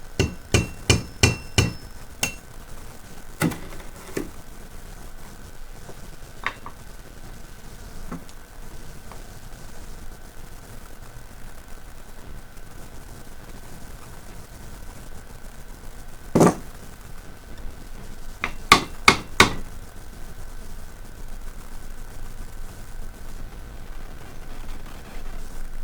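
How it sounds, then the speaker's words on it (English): A hammer cold-forges metal in bursts of sharp, ringing metallic strikes, several quick blows in a row, then longer pauses. The bursts come at the start, midway and near the end over a quiet background. "because I am cold forging this"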